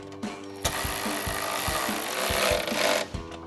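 A 13 mm socket drives down a bolt on the running board bracket of a Jeep Gladiator JT, giving a dense, buzzing power-tool whir with rapid rhythmic clicks, close and continuous for about three seconds.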